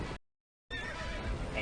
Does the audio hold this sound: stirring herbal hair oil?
no